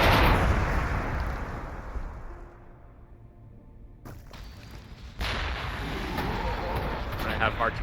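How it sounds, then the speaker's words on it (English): Heavy booming artillery blasts in the Warhammer 40K Gladius strategy game, a loud roaring burst at the start, a lull, then another sudden blast with rumbling after. "Have artillery fire at big squad numbered troops"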